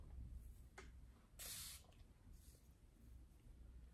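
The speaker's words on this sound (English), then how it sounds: "Spray the roots as well." A short burst of spray bottle misting water onto hair stands out against a quiet room, followed by fainter hissing sprays.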